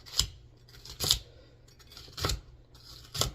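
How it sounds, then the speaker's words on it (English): A knife roughly dices bell pepper on a cutting board, with four crisp close chops spaced about a second apart and no talking. "we're going to roughly dice"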